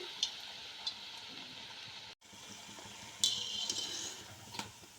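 Vadas fry in hot oil in a pan with a steady, soft sizzle and faint bubbling, quiet and close, broken by a brief cut and a few light clicks of turning.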